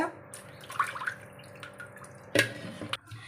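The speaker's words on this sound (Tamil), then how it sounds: "ஒவ்வொரு பீஸாக இப்படி அலசி எடுத்துக்கோங்க" Pieces of fish rinsed by hand in a bowl of water make close, soft splashes, drips and sloshing as they are moved about, with a sharper splash near the end.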